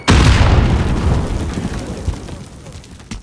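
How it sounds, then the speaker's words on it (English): An enemy grenade detonates in a military shooter game: one loud, close blast with a deep booming rumble that slowly decays, followed by faint scattered debris and a final small pop. "Enemy Grenade at the out! cargo container."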